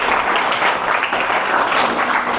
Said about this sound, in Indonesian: Tepuk tangan buat adik semuanya.